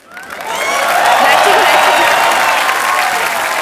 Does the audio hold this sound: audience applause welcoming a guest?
yes